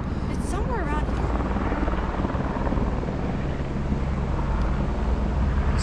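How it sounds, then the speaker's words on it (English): A rescue helicopter circles overhead above a mountain meadow near Mt. Whitney, its steady rotor drone filling the clip with constant wind-buffeted rumble and no talk. "It's a rescue copter circling around right above us."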